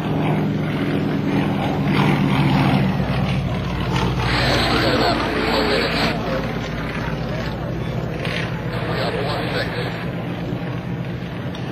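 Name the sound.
Nanchang CJ-6 aircraft with Russian engine flying aerobatics at airshow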